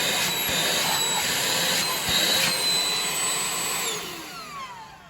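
A Shark CH950UKT cordless handheld vacuum with a motorised brush runs with a steady loud whirring whine. The hum holds level, then drops and fades near the end as the motor winds down.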